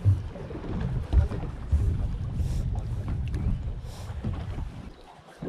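Sea waves slosh and slap around a fishing boat out jigging, with steady rushing water, wind buffeting the microphone, and a couple of heavier thumps against the hull.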